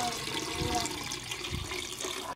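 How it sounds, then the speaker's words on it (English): A Blackview BV8000 Pro rugged smartphone is plunged into water, giving a continuous close rush of sloshing, bubbling liquid that fills the whole moment without speech. "Submerged it in water."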